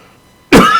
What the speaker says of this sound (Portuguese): eu começo a tossir porque falo muito sobre pensamento e vontade